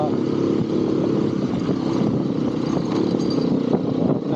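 A Hero XPulse motorcycle rides off-road, its engine droning loudly and steadily with rough clattering from the terrain, close by throughout.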